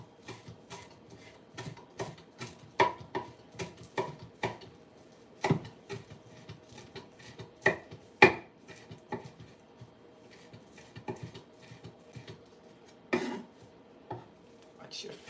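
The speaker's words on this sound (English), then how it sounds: "These you have to try to mince them very, very fine." A knife minces food finely on a cutting board in a home kitchen, making irregular bursts of sharp close taps and clicks, some louder than others, with short pauses between runs.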